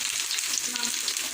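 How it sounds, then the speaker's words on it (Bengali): Potatoes fry in a pan for a festive home-cooked meal, giving a steady close hiss and crackle of sizzling oil with no talk. "আপাতত আলু ভাজছি"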